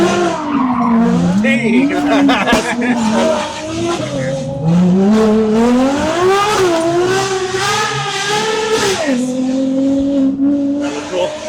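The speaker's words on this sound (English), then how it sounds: "I don't think a Taycan's ever been wheeled this hard." A Porsche Taycan electric car is driven hard, its tires squealing in long, wavering howls across most of the clip, loud and close, with a brief shout from someone.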